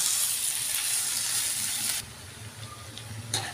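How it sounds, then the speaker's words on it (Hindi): Spring onions, capsicum, carrot and cabbage fry in a little oil with a bright, steady sizzle that sounds strong at first, then drops to a softer, quieter hiss partway through, with a small clatter near the end. "इसमें हमारी स्प्रिंग अनियंस है, कैप्सिकम है, कैरेट है और कैबेज है, इसको भी हम थोड़ा सा तेल में भून लेंगे।"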